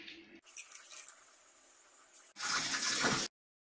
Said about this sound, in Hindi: और चाशनी को छान लेंगे